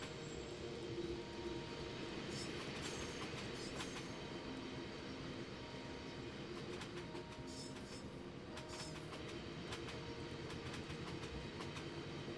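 Railway noise from a train in the game Infinite Rails: a steady, continuous rumble of wheels on track with clickety-clack and occasional squeal, loud and unbroken throughout, with no talking.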